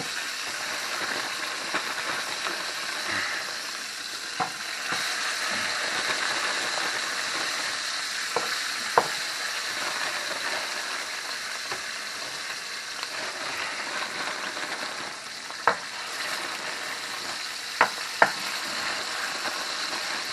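Perogies frying in hot oil make a constant close hiss and sizzle that runs throughout, broken by scattered sharp pops and crackles.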